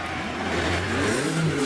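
A 600-700 horsepower race car accelerating out of a hairpin into the esses at a hill climb, its engine note rising steadily, loud and fairly close, with no talking.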